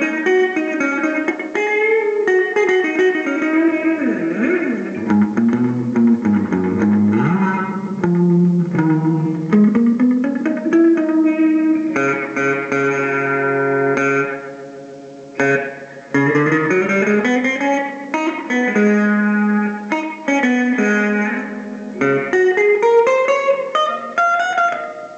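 Electric guitar played through an Acoustic Reverbrato oil can delay reverb, sustained chords and bending single notes washed in wobbly, echoing ambience, loud and continuous with a brief pause midway, no talk.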